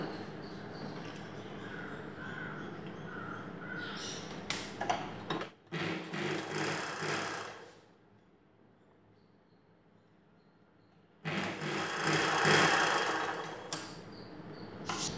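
Sewing machine stitching two folded edges of katori blouse fabric together, its motor running in two separate bursts around a quiet pause, with faint light ticking in the steadier opening stretch.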